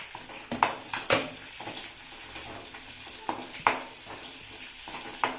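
A single onion fries in a pan for fish fry, with steady sizzling broken by sharp clicks and scrapes of stirring at irregular intervals, heard close with no voices.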